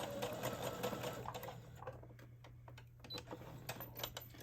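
Close, steady whir and rapid ticking of a sewing machine stitching a neckline, slowing briefly near the middle before picking back up, with no talking.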